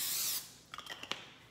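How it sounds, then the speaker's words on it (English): A can of olive oil cooking spray hisses in one short burst onto a waffle maker, followed by a few soft clicks and taps. "got my olive oil spray and I'm just gonna spray it."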